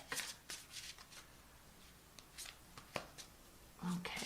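Quiet, close riffling and flicking of a tarot deck being shuffled by hand, irregular soft card snaps spread across a few seconds, with faint speech in the background.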